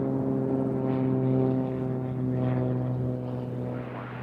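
A Boeing B-29 propeller bomber drones overhead near Nashville airport. It gives a steady, fairly faint, pulsing hum of heavy piston engines that rises and falls gently.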